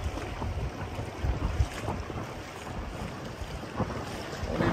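A small tender motors through sizeable waves on the open sea off the Greek islands, with steady engine and water rush under strong wind buffeting close to the microphone, slapping surges rising and falling throughout.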